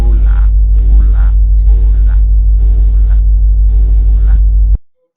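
Loud, constant electrical hum with buzzing overtones, a voice talking in short bursts over it, ending in an abrupt cutoff.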